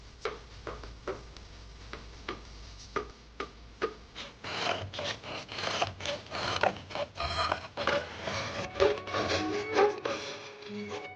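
Hand tools shape wooden clogs (madreñas) from a rough block of soft wood, giving irregular close knocks, taps and rasping scrapes that grow denser and louder partway through.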